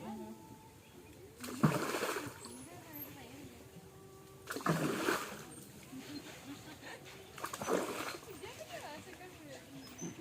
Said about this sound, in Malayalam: ഫ്രണ്ട് ഫുട്ട് ഉപയോഗിച്ച് യഥാർത്ഥത്തിൽ വെള്ളം തെറിപ്പിക്കുക